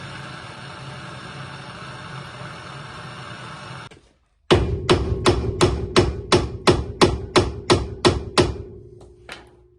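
Seized car bolts on a Honda Integra Type R DC2 are struck with a hammer, about a dozen loud, evenly spaced metallic blows after a steady hissing noise cuts out.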